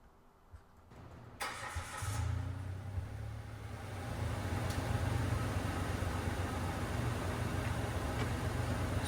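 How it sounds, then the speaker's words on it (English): A car engine cranks and catches, then settles into a steady, loud idle close by, with no talk over it. "Now I'll turn the engine on."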